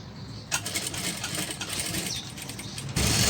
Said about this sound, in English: Now stitch the open part of this mask